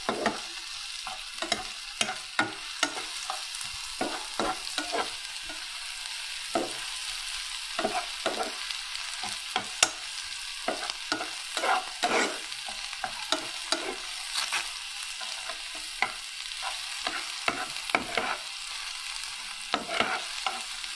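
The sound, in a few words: deep frying in oil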